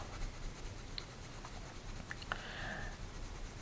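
Colored pencil rubs on paper in small circular strokes, a soft continuous scratchy scrubbing, faint and close with no voices.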